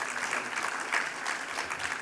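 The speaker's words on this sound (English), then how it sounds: "could you give a round of applause to Pinkesh and Brandy" An audience at a hoteliers' conference applauds its speakers, a brief, even burst of dense clapping at a steady level.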